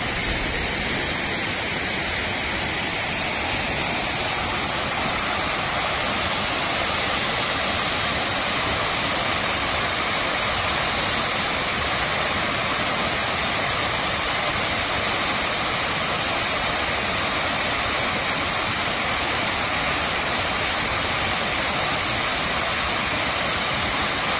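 Steady, dense roar of the Balabhangra waterfall in Keonjhar, Odisha, with low water flow, a continuous broadband rush filling the whole span with no breaks.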